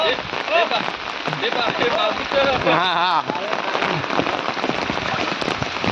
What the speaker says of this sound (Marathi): पाऊस पण जोरात येता